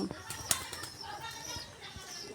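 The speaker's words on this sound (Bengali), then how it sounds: "দেখো আমাদের পায়রা নেমেছে" Brief wing flaps as a pigeon lands nearby, with faint voices in the background.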